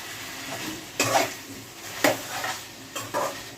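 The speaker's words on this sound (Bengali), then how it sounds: "এইভাবে করে তরকারিটা কষিয়ে নিতে হবে" A curry is sautéed in a pan with a spoon scraping through it three times. The strokes stand out over a soft, steady sizzle, close by, with no talking.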